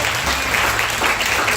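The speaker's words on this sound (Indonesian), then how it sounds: "Tepuk tangan buat kemuliaan Tuhan." Steady congregation applause fills a church worship service, dense and continuous clapping from many hands at moderate loudness without a break.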